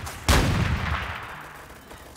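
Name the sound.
sniper rifle gunshot in the video game Apewar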